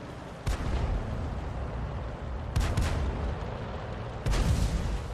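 Video game SU-14-2 self-propelled gun fires three heavy booming shots at uneven intervals over continuous loud battle rumble.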